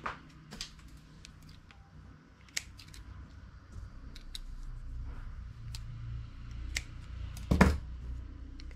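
Scissors snip knitting yarn in a few brief, sharp cuts spaced across a quiet background, with one louder snip near the end.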